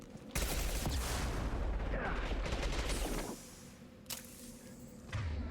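Loud, dense gunfire from disruptor ammo in the Mass Effect video game, a sustained burst of rapid shots lasting about three seconds, then quieter, followed by a short burst and another onset near the end.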